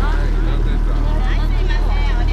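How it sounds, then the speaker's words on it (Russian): A small 15-horsepower outboard motor drones steadily on a pleasure boat on the Hozugawa River in Japan, running close and constant with a low hum while people chatter in the background. "а вот тут моторчик у него 15-сильный такой."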